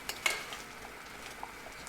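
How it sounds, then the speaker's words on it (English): A spoon stirs semolina mixture in a pan for mango halwa, giving a soft scrape and clink near the start, then faint wet scraping and light sizzle, close and alone. "adding this mixture to the semolina. Add slowly and carefully, and now stir it"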